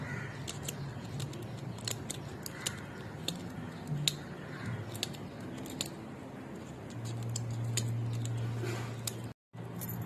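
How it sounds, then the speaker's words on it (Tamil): Scissors snip thin strips from a used pill blister pack, a steady run of close, crisp cuts repeating about every half second, with a low hum in the background. "இந்த வேஸ்ட்டு மாத்திரை கவர் இருக்குல்ல, அதை மெலிசாக கட் பண்ணு"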